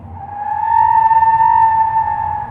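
A BYD Dolphin electric car launches off the line with a sustained tonal tire squeal from wheelspin, loud and close, lasting a couple of seconds with a low rumble underneath and no talk.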